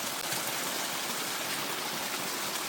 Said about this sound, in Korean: 뒤쪽에 폭포 소리가 들리는데